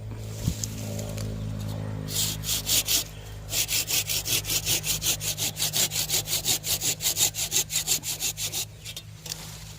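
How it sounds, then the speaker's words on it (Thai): A saw cuts through a durian tree branch during pruning, starting with a few scattered strokes and then settling into a fast, steady back-and-forth rasp of many rhythmic strokes, close and clear. "ผมจะใช้เลื่อยตัดเลยนะครับ"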